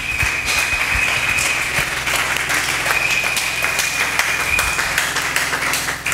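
A church congregation applauding loudly, dense sustained clapping filling the room with a faint high tone running beneath, continuing for several seconds.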